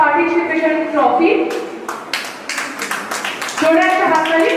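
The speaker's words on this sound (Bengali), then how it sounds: "জোরে একটা হাততালি" An audience at a Purulia reality-show prize ceremony claps for a participant trophy winner. A burst of clapping sits in the middle, with an announcer speaking before and after it.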